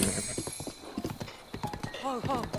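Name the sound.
horse clip-clop and whinny in video game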